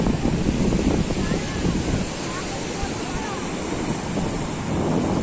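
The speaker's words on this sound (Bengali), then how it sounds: "সমুদ্র কিন্তু বিশ্রাম নেই দেখো কন্টিনিউ কিন্তু জলোচ্ছ্বাস বা জল দিয়ে যাচ্ছে" Sea waves surging onto Digha beach in rainy weather, a loud continuous rush of surf mixed with heavy wind buffeting the microphone, with no clear gaps between swells.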